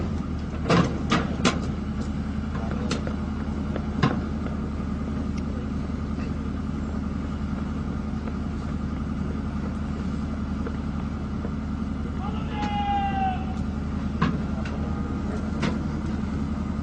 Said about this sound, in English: Using the auxiliary power unit, the gun can move at a maximum speed of 7 kilometers per hour.